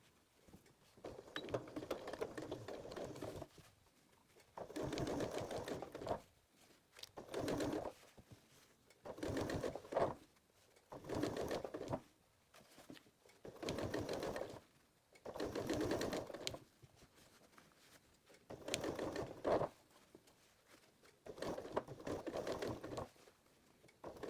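A sewing machine stitches bias tape in the crease around the curves of a fabric pot pincher, running in about nine steady bursts of a few seconds each with brief pauses between, close and clear with no voices.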